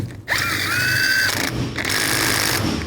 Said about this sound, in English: Use an 8mm hex socket.